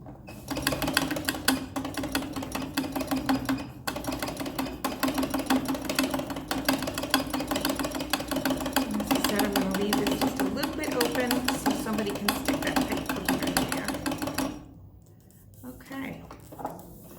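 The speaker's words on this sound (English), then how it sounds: "And there we have a mask made on an old-fashioned sewing machine." Rapid, steady mechanical clatter of an old treadle sewing machine stitching for a long stretch, then it stops and the room goes quiet.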